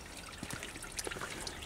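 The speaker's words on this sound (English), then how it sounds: "So there was these drains, you can see it trickling here" Rainwater trickles down into a street drain, a steady soft wash of running water with scattered small drips and gurgles, faint and continuous outdoors.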